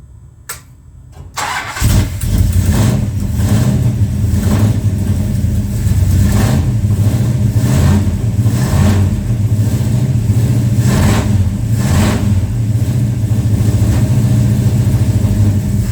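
Engine start on a Plymouth Road Runner: a brief quiet crank, then the motor catches and runs loud and rough up close, with a pulsing, uneven rhythm of repeated surges as it struggles to hold an idle.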